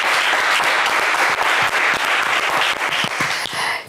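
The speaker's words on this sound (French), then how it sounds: "on vous applaudit très très fort, Jacques" A game-show studio audience claps loudly and densely, a continuous wave of applause from many hands that holds steady before beginning to taper at the very end.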